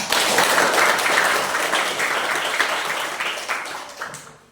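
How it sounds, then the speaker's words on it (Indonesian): A group of teachers or participants in a coaching session applauds one another. The clapping is steady and fairly close at first, then thins and fades out toward the end. "Kita beri tepuk tangan untuk kita semua."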